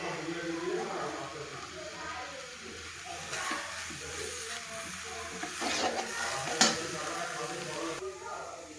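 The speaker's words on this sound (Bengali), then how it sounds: "আস্তে আস্তে আমি একটু ভেজে নিই। আমার এখানে ভাজা হয়ে গেছে, এবার আমি কিশমিশটা দিয়ে দিচ্ছি।" Raisins fry in a pan of carrot halwa, giving a soft, steady sizzling hiss with occasional stirring scrapes throughout.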